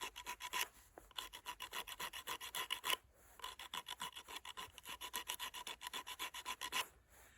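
Coarse sandpaper rubs along a handmade wooden Indian club in quick, steady back-and-forth strokes, a close, raspy scratching that breaks off briefly twice before resuming.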